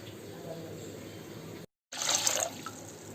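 Water is poured from a glass onto rice in a cooking pot for homestyle chicken fry piece biryani: a faint trickle, a brief break, then a louder splash.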